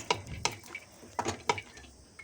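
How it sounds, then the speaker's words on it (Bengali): Dry fruits (almonds, cashews and raisins) fried in ghee and stirred in a kadai, a run of sharp spoon-on-metal clinks and scrapes coming in quick irregular bursts, close and fairly clear. "কড়াইয়ে ঘি দিয়ে কিছু ড্রাই ফ্রুট ভালো করে নাড়াচাড়া করে ভেজে নিচ্ছি।"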